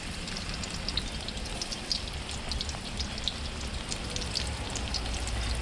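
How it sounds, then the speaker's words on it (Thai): Eggplant, pumpkin, carrot and long beans frying in oil over low heat, a steady soft crackle and patter of small pops continuing evenly throughout, close and moderately quiet with no voices. "ใช้ไฟอ่อนๆในการทอดนะครับ"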